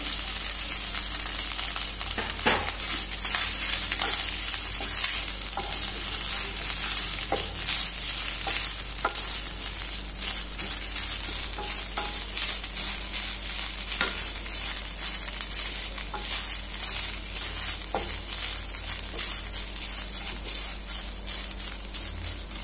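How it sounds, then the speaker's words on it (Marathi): Grated coconut being sautéed in a pan for Maharashtrian sweet coconut rice gives a soft, continuous sizzle, broken by repeated light scrapes and taps of a spatula, close and fairly quiet, with no talking. "आता आपल्याला थोडं खोबरं परतून घ्यायचं आहे"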